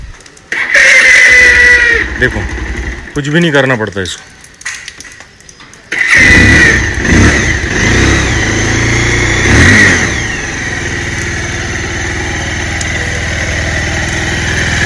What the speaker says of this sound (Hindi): चालू करेंगे गाड़ी को